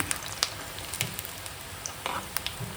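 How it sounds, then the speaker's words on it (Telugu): Maida snacks deep-fry in oil over a medium flame, giving a soft, quiet bubbling fry with a few light clicks and taps. "మీడియం ఫ్లేమ్లోనే ఫ్రై చేసుకోవాలండి గోల్డ్ కలర్ వచ్చేదాకా"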